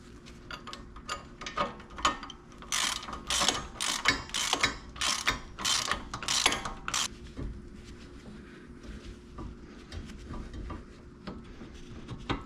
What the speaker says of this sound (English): We'll put our nut on the other side and we'll tighten it up.